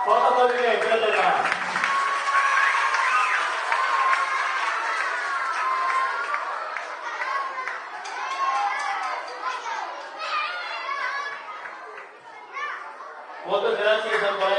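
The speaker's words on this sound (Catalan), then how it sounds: "Fort aplaudiment" Loud, dense applause and cheering from a school audience at a youth wind band's educational concert, a crowd of children clapping and shouting continuously throughout, with a brief lull near the end before it swells again.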